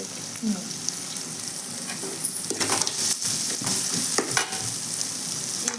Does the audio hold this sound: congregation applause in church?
no